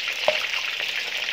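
Angel fish frying in a pan gives a steady, close sizzle with bright crackling throughout and one louder pop near the start, no voices.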